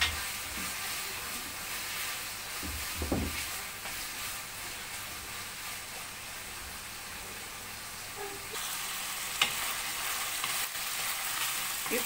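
Liver fries in a pan with a steady, soft sizzle throughout, broken by a few faint clinks and stirring knocks.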